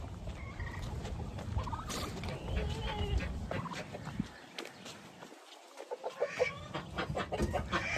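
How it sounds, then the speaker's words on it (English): Ducks call loudly and repeatedly nearby, honking and squawking in bursts with a short lull partway through. "I hear my ducks screaming at me"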